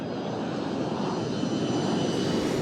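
An airliner passes low over Hong Kong rooftops with a loud, continuous roaring engine rumble that holds steady and swells slightly, close overhead with no voices.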